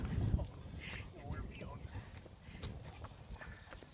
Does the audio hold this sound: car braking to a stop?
no